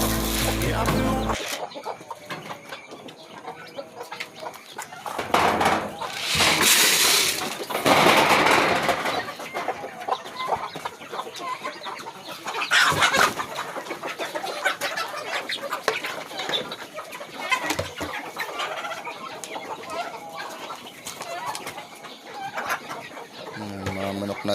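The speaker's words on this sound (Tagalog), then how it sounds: "Mga manok natin, mga farmers at bibi." Farm chickens and ducks clucking and calling at a rural Filipino farm, intermittent fowl sounds under a busy, noisy background with music and occasional voices, loud bursts scattered throughout.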